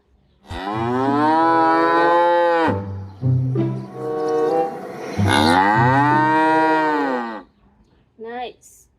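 A plastic toy cow gives two long electronic moos, loud and close, separated by a brief pause, followed by a short chirp.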